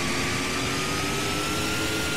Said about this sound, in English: Love the sound of those engines.